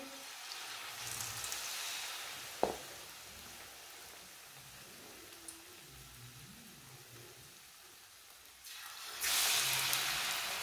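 Samosas frying in oil over a low flame, a faint steady sizzle and bubbling hiss with a single brief clatter partway through, rising to a louder hiss near the end.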